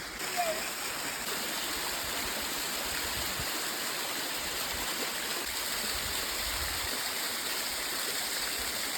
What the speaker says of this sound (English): you can see the water going over the edge, and that's that 300-metre drop